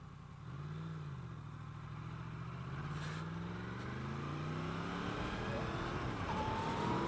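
A Yamaha FZ10 motorcycle accelerates as it is ridden, engine pitch climbing through gear changes with a steady rising drone and wind, heard from the rider's position at moderate level.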